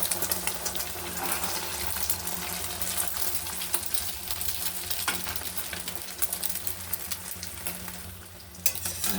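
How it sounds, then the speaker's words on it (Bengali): Beaten eggs fry in oil in a wok, giving a steady, continuous sizzle with light stirring scrapes and a faint watery hiss throughout, close and moderately loud with no talking. "আমি কড়াইয়ে তেল দিয়ে নিচ্ছি। যে ডিম দুটো ফাটিয়ে রেখেছিলাম সেটা আমি ঢেলে দিচ্ছি"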